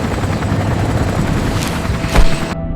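Helicopter rotor blades thud in a steady, close, rumbling churn, with a brief sharp burst near the end before the sound cuts off.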